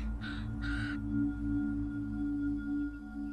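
Two harsh raven caws ring out at a nest in sagebrush country, close and clear over a low constant rumbling hum, then only the hum continues.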